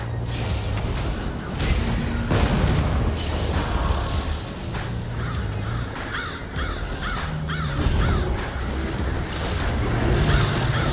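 Crows caw repeatedly from the Plague of Crows ability in a fantasy video game, harsh overlapping calls over whooshing game effects and low rumbles, loud and busy throughout.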